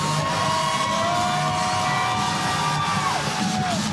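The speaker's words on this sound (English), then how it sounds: "Listen to that crowd." A wrestling crowd at Herman's Hideaway in Denver cheers, whoops and yells in a dense, sustained roar, with louder drawn-out shouts rising over the noise of the packed venue.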